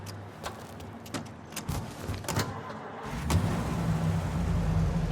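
A car in the Mafia game rolls along with a low engine rumble that swells louder toward the end, near and steady, with a few sharp clicks early on.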